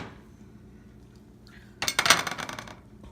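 A quarter cup of basmati rice pours into a pot for phirni, a brief rattling, clinking patter of grains arriving after a quiet stretch, close and fairly soft.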